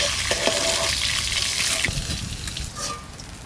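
Blue bokthuto sea fish from Odisha, a large 4 kg fish, fries in hot oil that spatters and crackles. A dense, close sizzle runs continuously with scattered pops throughout.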